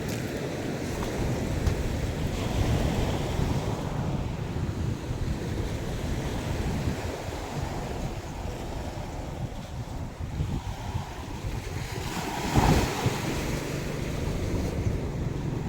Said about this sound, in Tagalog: Malakas yung alon dito ah.